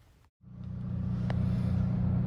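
A 2022 Hyundai Elantra N with a Hike It X9 throttle controller in full race mode pulls away after a brief cut, its engine note swelling into a loud, steady low drone close to the microphone.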